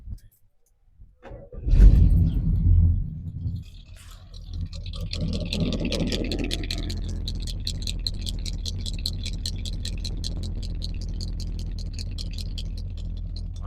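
A 1970 Pontiac GTO convertible with a healthy 350 engine cranks briefly, catches with a loud burst, then settles into a steady, close idle with a fast ticking rhythm.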